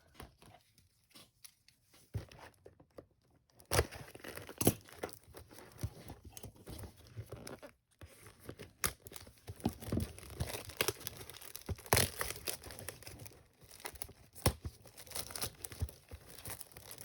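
Foil trading card packs of a Little Frog Detective Conan series are torn open and crinkled, with bursts of ripping and crumpling separated by short pauses, close and fairly quiet.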